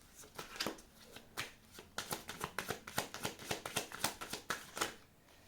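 A deck of tarot cards is shuffled in a long run of quick riffling snaps, each crisp and close. They come in a fast, fairly regular rhythm, and no talk is heard.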